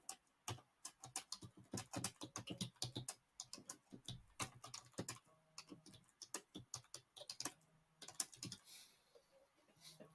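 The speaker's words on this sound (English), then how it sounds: "So you click this button." Quick, light clicks on a computer, a steady run of close, faint taps and ticks with short gaps between them.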